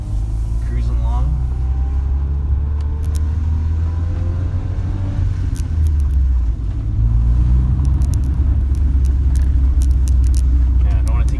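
A car engine running on a freshly fitted AEM EMS idles after its first start with a steady, close, low rumble, while people talk over it.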